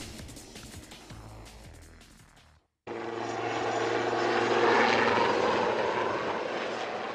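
Royal Navy helicopter passing overhead during a security exercise over the Thames in London, heard as a loud, steady rotor and engine roar that swells and stays strong after a brief cut, with no talk.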